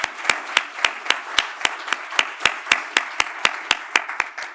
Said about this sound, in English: I would like an applause